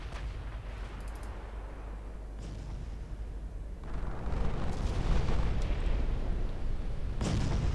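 Naval guns firing at an enemy battlecruiser in Ultimate Admiral Dreadnoughts: deep booming blasts at scattered intervals over a rumbling background that swells louder midway, with a sharp final report near the end.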